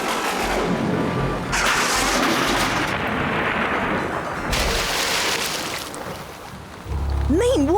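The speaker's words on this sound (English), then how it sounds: "Meanwhile, Bimble struggles through the storm towards Chateau Clackhanger." Animated storm scene with loud, continuous thunderstorm noise, heavy rain and rolling rumbles, broad crashes and gusts, ending in a deep surge with a rising whistling tone; no talking.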